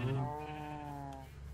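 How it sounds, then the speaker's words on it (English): A sheep in the Minecraft video game gives a single drawn-out bleat, a clear wavering tone that tapers off, heard close and alone without talk. "And hello there, sheep."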